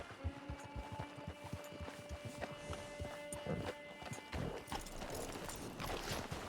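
Horse hooves clip-clopping at a steady walking rhythm in Red Dead Redemption 2, moderately close and fairly quiet, with ambient background sound.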